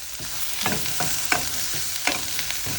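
Onion sizzling steadily in a hot pan for squid adobo, with repeated stirring scrapes every half second or so over the constant frying hiss, close and fairly loud, no voices.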